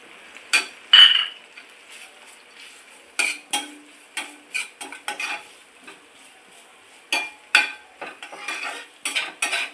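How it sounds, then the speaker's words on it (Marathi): Fasting thecha sautéed in a pan with crushed peanuts added, heard as a utensil repeatedly scraping and clinking against the pan in irregular bursts over faint sizzling, close up with no talk. "छान असा परतून घेऊया आणि त्याच्यामध्ये हा थोडा शेंगदाण्याचा कूट"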